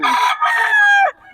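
A fighting-cock stag crows once, loud and close, in a single drawn-out call with a brief break in the middle and a strained, rising finish.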